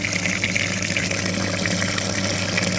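Water flushes under pressure through the very dirty cooling system of a Hyundai Sonata LF, driven by a flushing machine after the antifreeze is drained, a steady close rushing gush with a faint pump hum beneath.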